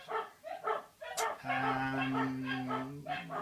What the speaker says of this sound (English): it's coming home, so the dogs are going crazy